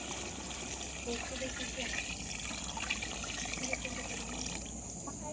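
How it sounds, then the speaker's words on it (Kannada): Water pours steadily into a cooking pot for chicken biryani with a continuous splashing gush, close by, while a low hum runs underneath. "ಇಷ್ಟು ನೀರು ಹಾಕ್ತಾ ಇದ್ದೀನಿ"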